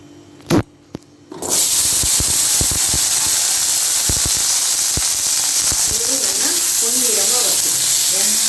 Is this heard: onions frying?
yes